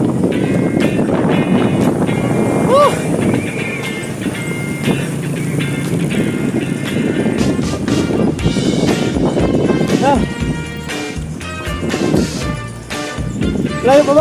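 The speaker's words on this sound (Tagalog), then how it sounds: "Lakas pa ng hangin." Strong wind roars steadily over the microphone during a motorcycle ride on a zigzag road, loud and continuous with rumbling buffeting and faint voices underneath.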